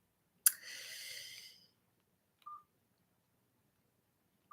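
A telephone number is keyed in on a phone during a call to a local councillor, a single clear tone burst followed by a short beep and another brief tone, alone in quiet.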